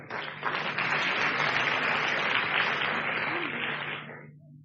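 An audience in a training hall breaks into steady, full applause that swells quickly, holds for a few seconds, then tapers away.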